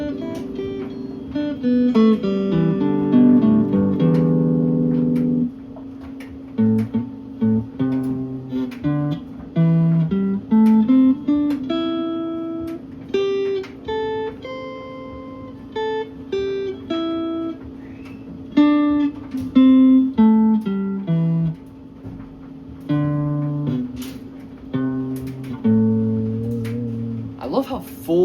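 Scales played on a Squier mini Strat electric guitar through a small 15-watt amp, with clean single notes climbing and descending in steady runs that ring out clearly and loudly from start to finish.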